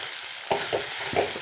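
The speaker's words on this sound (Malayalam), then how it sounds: "ഇനി ഞാൻ ഇളക്കിയെടുക്കട്ടെ" Turmeric and chili powder are stirred in a hot pan, giving a dense steady sizzle with three quick scraping strokes, close and loud, and no talking.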